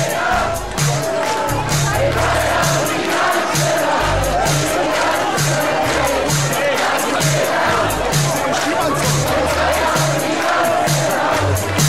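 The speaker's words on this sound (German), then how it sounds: "Wir klatschen und singen so laut ihr könnt." A large crowd at a town festival in Unna claps and sings together loudly and continuously, with rhythmic hand claps and cheering voices filling the whole stretch.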